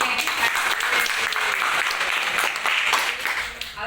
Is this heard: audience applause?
yes